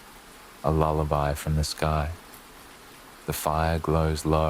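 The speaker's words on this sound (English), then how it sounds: "The rain continues, steady and calm, a lullaby from the sky." Steady rain falls as a soft, even hiss throughout, partly masked by a calm voice speaking in a low, soothing tone.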